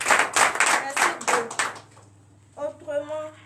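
A church congregation at a morning prayer service in Benin claps in a rhythmic burst of strong, evenly spaced hand claps for about two seconds, then goes quiet before a voice begins speaking.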